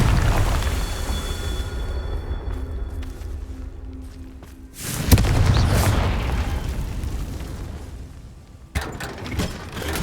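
Confringo blasting spells explode in the video game Hogwarts Legacy, two loud booming blasts amid rumbling game effects, the second arriving a few seconds after the first.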